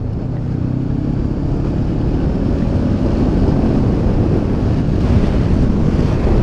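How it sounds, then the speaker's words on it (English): Steady, loud wind buffeting and roar from riding a Honda CB500X adventure motorcycle with a raised windscreen in its middle position, a constant low rush that stays level throughout with no talk. "The buffeting noise is reduced a fair bit."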